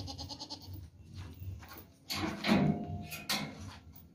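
An 18.5 kg male goat bleats loudly once or twice in the middle, with some shuffling and handling noises before and after.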